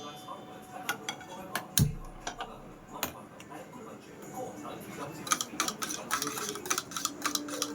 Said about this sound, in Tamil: இப்போ நம்ம வந்து கேஸ் ஆன் பண்ணிக்கலாம்